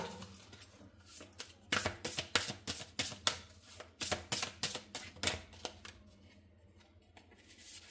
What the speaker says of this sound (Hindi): कुछ कार्ड्स हैं जो मैं और निकाल लेना चाहती हूँ